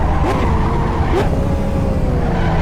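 Porsche GT3 RS in a racing video game drifting through a corner, its engine droning loudly and steadily with brief shifts in pitch as the car slides, two quick tire-scrub bursts early on.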